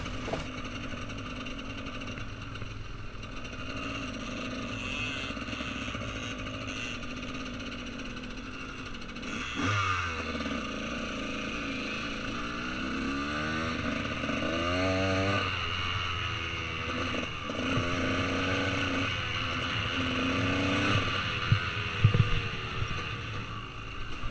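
A dirt bike engine on a trail revs through the gears, its drone rising and falling in pitch in repeated sweeps, continuous and fairly close throughout.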